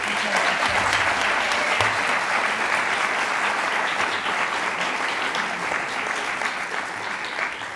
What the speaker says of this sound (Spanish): Un aplauso para Alessandra.